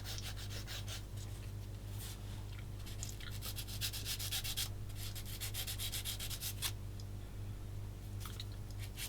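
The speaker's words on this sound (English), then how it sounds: "I can do that quickly here with a bit of sanding stick" Quick back-and-forth strokes of a sanding stick rub against a small plastic model kit part, a close, dry scratchy rasp in short bursts over a steady low background hum.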